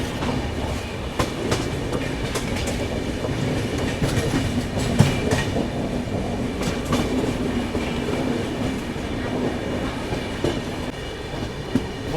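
The Sapt Kranti SF Express departing Motihari, heard from inside a 2nd AC coach: a steady rumble with rhythmic clickety-clack of wheels over rail joints and occasional squeals, continuous and loud throughout.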